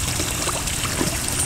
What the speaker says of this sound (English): You want to pour the scoop in slowly.